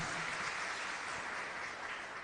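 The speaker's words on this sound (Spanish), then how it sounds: "Fuerte aplauso entonces para nuestra comunidad" A community applauds at a Catholic Mass for San Isidro Labrador, a soft, distant, continuous patter of many hands clapping evenly throughout.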